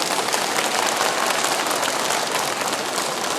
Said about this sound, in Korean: 박수 한번 쳐봐요